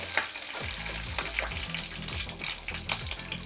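Whole spices and mint leaves (cloves, cardamom, cinnamon stick, bay leaf) sauté in hot oil for a chicken liver gravy, giving a steady close sizzle with light stirring scrapes and no talk.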